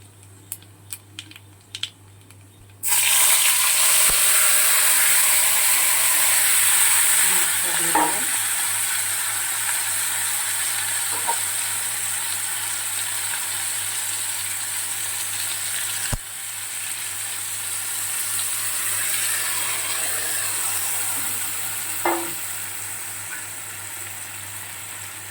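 Puti fish and black cumin fry in hot oil in a pan. A loud, sustained sizzle bursts in after about three seconds and crackles on steadily to the end.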